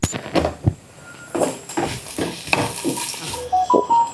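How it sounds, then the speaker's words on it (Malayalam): Onions sauté in a pan until brown while a spoon stirs and scrapes, giving irregular clattering strokes over a soft sizzle, close and moderately loud, without any talk. "സവാളയുടെ കളർ നന്നായിട്ടൊന്ന് മാറി ബ്രൗൺ കളർ ആകുന്നത് വരെ വേണം വഴറ്റി കൊടുക്കാനേ."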